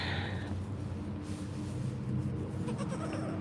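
Baby goats bleat nearby, a wavering bleat at the start followed by more scattered animal cries, including a lamb, over rustling, busy background noise.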